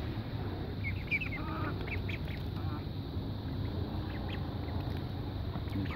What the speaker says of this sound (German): Die Enten haben es nötiger.